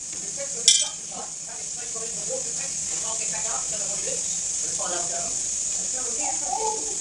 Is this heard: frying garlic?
yes